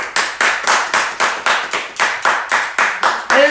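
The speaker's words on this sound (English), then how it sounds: "I'm gonna clap and shit" Hands clap steadily about thirteen times at an even, moderate pace, close and loud, with nothing else underneath.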